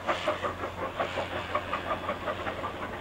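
A train on the Ji tong line in China rolls along steadily with a rhythmic clickety-clack of wheels over rail joints and a soft hiss, moderately distant and fairly quiet under wind.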